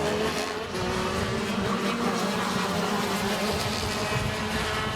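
KZ racing kart engines screaming during a race, a dense, continuous high-revving buzz from several karts close by, loud and sustained with slight pitch shifts and no voices.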